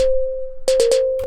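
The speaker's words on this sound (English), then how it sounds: "I added the sub and noise oscillators, which sound like this." A steady synth sub oscillator hums low and constant while three quick bursts of bright noise-oscillator noise puff over it, followed by a fourth burst near the end.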